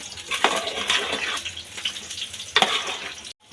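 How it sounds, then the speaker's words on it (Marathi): Washed basmati rice fries in spiced oil for a biryani, giving a steady close sizzle with bursts of crackle and occasional stirring scrapes, no voices. "जे बासमती तांदूळ धुवून घेतले होते ते टाकून घेऊया ते दोन मिनटं फ्राय करून घेऊया"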